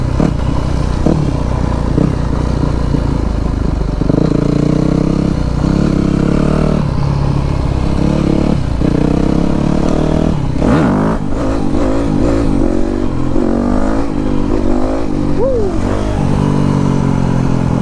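A Yamaha 250 YZF dirt bike being ridden on a cold sunny day with a freshly installed piston, its engine loud and close from a helmet mic, revving up and down through gears with wind rush throughout.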